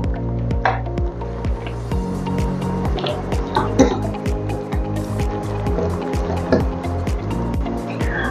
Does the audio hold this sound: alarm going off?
no